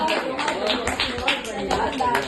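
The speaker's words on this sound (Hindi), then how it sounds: "जोरदार तालियां" An audience at a poetry or comedy recital claps briefly, a short burst of applause mixed with overlapping voices and background speech.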